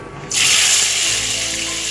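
Onions dropped into hot oil, a sudden loud hiss that bursts in after a brief quiet moment and then holds as a steady, close sizzle.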